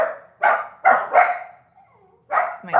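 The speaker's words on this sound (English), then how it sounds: "It's my doggy, sorry." A mini dachshund barks close by indoors, four sharp, fairly loud yips in quick succession with a short pause before the last.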